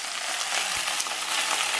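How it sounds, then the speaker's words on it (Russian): Potatoes fry in a pan with a dense, even sizzle and crackle, close and continuous throughout. "Так, картошечка наша шкварчит."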